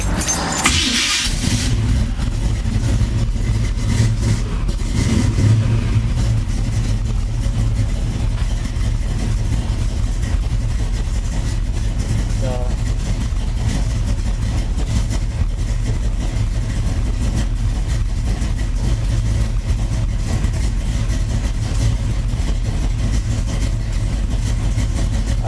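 A 1971 Camaro V8 idles steadily, a continuous low rumble with a slightly uneven loping pulse, close and fairly loud throughout with no pauses.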